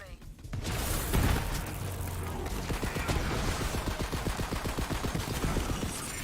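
Rapid bursts from a Hyperion SMG in Borderlands 3, steady rattling automatic fire with sharp repeated cracks, loud and close, after an initial heavy boom, with a voice talking over it.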